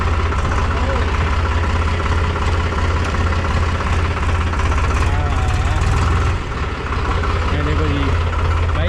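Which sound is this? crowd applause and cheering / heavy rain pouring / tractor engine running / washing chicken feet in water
tractor engine running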